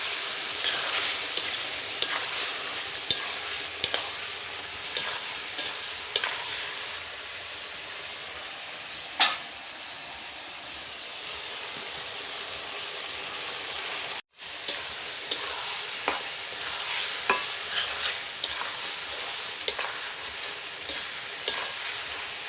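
Bottle gourd curry with hilsa and shrimp is stirred in a pan, giving a soft, continuous sizzle with scattered scraping clicks and one sharp knock, heard faintly and without talk.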